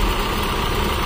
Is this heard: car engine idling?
yes